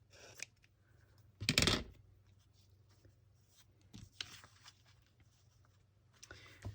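Scissors cut through fabric for making tags, a short burst of close crisp snipping followed by a few quieter scattered handling sounds in an otherwise quiet room.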